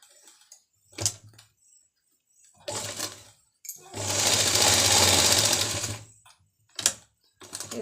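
A sewing machine stitching a circular palazzo, short clicks and brief runs followed by a sustained two-second burst of stitching, close and fairly loud, with quiet gaps between.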